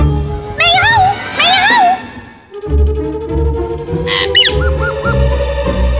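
A parrot squawks and whistles in repeated warbling calls, loud and close, with a short pause midway before more shrill rising calls follow over a low background hum.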